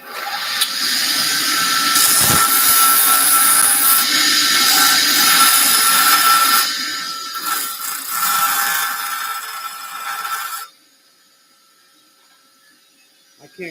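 An angle grinder cuts a bevel into metal for welding during tractor repair, a loud sustained abrasive whine and rasp lasting about ten seconds, wavering in pitch, before it abruptly stops and leaves near silence.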